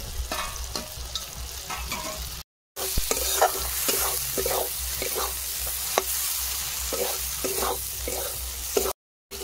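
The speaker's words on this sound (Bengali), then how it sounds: "চিংড়ি মাছ আর সব রকম যে মশলা দিয়েছি কষানো হয়ে গেছে" Shrimp sautéing in a pan with dried chili, chopped onion and poppy seed and cumin paste, a steady sizzle broken by repeated scraping stirs of a spatula, close and clear with two brief dropouts.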